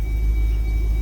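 A car with dropped valves and broken wires idles after starting, a loud, low, steady rumble with no pauses over a brief moment.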